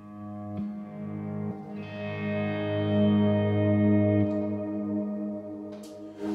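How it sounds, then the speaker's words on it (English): A guitar played through a Strymon BigSky reverb pedal in swell dry mode, notes sustaining and blooming into a thick, slowly swelling wash of reverb that holds steadily and fades near the end. "I change the mode to swell dry, let's see what that sounds like."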